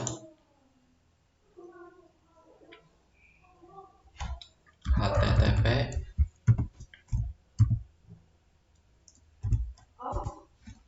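Keys clatter on a computer keyboard while typing into a Cisco Packet Tracer network simulation, a dense close burst of clicks following quieter scattered taps, with a few isolated keystrokes after.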